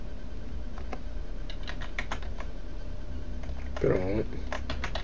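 Keys clatter on a computer keyboard as an email address is typed, with quick uneven clicks close up, a pause, and a brief spoken word partway through.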